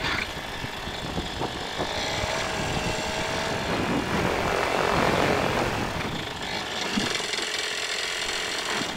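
A Peabee sub-70 ultralight aircraft engine runs steadily close by, a loud continuous propeller drone that swells slightly in the middle before settling, with no talking over it.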